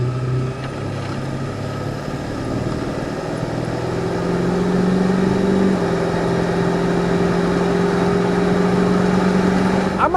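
A 2002 Ford F-250 Lariat 4x4 with the 7.3 diesel and automatic drives steadily, a low engine drone with a rising tone as it pulls, heard from inside the cab with no talk.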